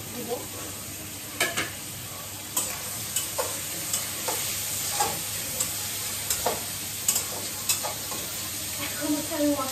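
Chicken pieces stir-fried in a pan for chowmein sizzle steadily while a utensil scrapes and clatters in irregular strokes every second or so, close and moderately loud, with no talking.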